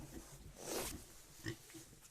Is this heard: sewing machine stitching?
no